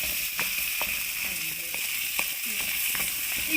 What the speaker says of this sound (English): Fry it for some time